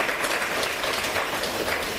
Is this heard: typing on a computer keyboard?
no